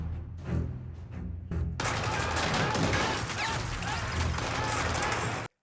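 Sustained gunfire at a shooting range in the Korean drama series Squid Game season 2, loud and continuous volleys of rapid shots for several seconds after a few scattered opening bangs.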